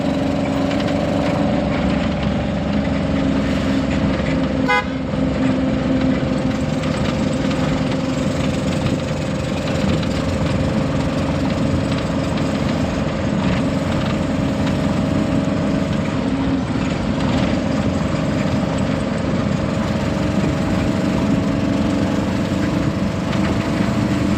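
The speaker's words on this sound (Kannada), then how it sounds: "ಸೈಲೆನ್ಸರ್ ಲೂಸ್ ಆಗಿಬಿಟ್ಟೈತೆ ಕಟ ಕಟ ಕಟ ಕಟ ಅಂತ ಈ ಸೌಂಡ್" A vehicle engine with a loose silencer runs steadily at close range, a continuous rattling drone that stays loud and even throughout, with no talk over it.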